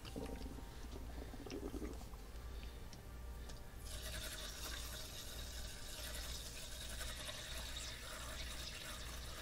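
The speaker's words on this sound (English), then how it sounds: "Got to put a little bit of water in the pot." Water poured into a cooking pot, a soft steady trickle that brightens into a fuller, hissing stream partway through and keeps running evenly to the end.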